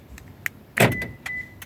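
Door locks on a 2009-2014 Toyota Matrix actuate by remote: a sharp mechanical clunk of the lock motors, preceded and followed by faint chirps and short electronic beeps from the key fob, close and clear.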